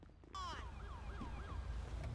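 An ambulance siren wails in the LSPDFR mod for GTA V, a rising and falling electronic tone that swoops up and then cycles steadily, loud and close, with no talk over it.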